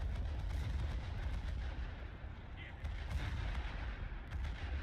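The warship Zhelezniakov blowing up in War Thunder naval combat, heavy rumbling booms and dense low-end gunfire filling the whole stretch at constant loudness.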